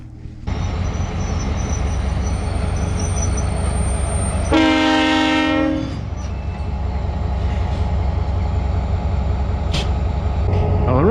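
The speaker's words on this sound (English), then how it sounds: "an oncoming train has just arrived and now a train started to move" A freight train in the Sahara rumbles steadily nearby, wheels rolling on the rails, while a horn blasts once briefly partway through.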